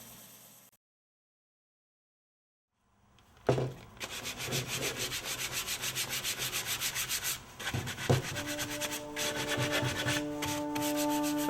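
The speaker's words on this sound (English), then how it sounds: "Hold the deck down on a belt sander to achieve this shaping." A belt sander grinds steadily against a medium density fiberboard hoverboard deck, a loud, close, continuous rasping hum with slight rhythmic pulsing, starting after a stretch of near silence and running to the end with a brief dip midway.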